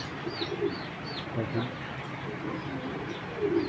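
A big orange chila female pigeon coos in soft, low, repeated murmurs close by, while thin higher chirps from other birds flit over the top.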